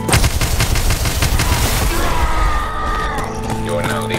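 Rapid video game gunfire in dense bursts of shots fills the first half, then thins out under a steady tone and game effects, with voices talking over the action.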